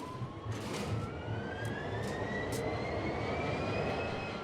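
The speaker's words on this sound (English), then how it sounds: "So the engine's started up okay." A train engine in the video game Train Sim World runs with a broad, steady rumbling drone and a rising tonal whine, close and continuous, with a few brief clicks over it.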